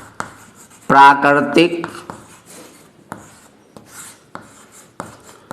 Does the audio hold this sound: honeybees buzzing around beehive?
no